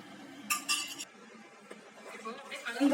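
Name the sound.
mixing bajji batter in a bowl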